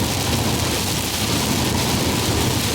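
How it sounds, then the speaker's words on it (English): Heavy rain pounding on a moving car, heard from inside as a dense, constant hiss and patter with no voices. "But it's raining the way that it was raining when I was on the way to work."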